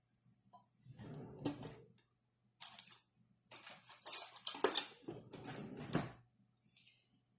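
Olive oil being mixed into ingredients in a bowl for pistachio crusted salmon: intermittent scraping and clinking of a utensil against the bowl in several close bursts over a low hum.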